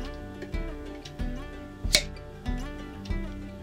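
A single sharp pop of a jar lid seal breaking as it is pried open stands out against a steady tonal hum with repeated low thumps, a brief bright crack near the middle.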